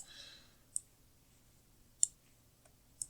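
Three sharp computer mouse clicks, spaced apart and close, sound in a quiet room while windows are resized in an old Slackware 1.01 Linux desktop running the twm window manager.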